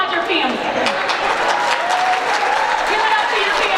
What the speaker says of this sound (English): And I want you to applaud them right now. Let's applaud your family.